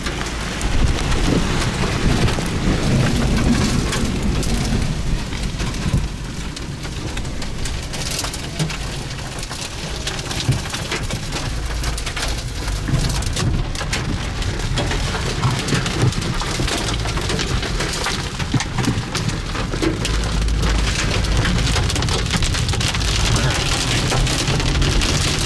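Heavy rain from a high-precipitation supercell thunderstorm near Oskaloosa, Iowa pours in a dense, continuous roar on nearby surfaces, with gusting wind mixed in at a steady, loud level for the whole stretch.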